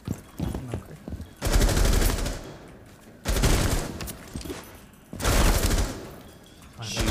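Gunfire in a Rainbow Six Siege match: three long, loud bursts of rapid automatic fire separated by short pauses, with a few quieter shots and movement between them.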